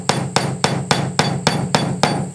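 A hammer drives nails into a wooden birdhouse with eight sharp, evenly spaced strikes, each a close, loud crack in a steady rhythm, with no talking.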